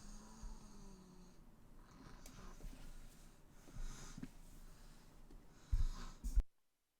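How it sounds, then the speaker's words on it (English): A little boy snoring indoors, soft raspy breaths under a steady background hum, ending with a couple of louder snorts before abrupt silence. "my little boy was snoring."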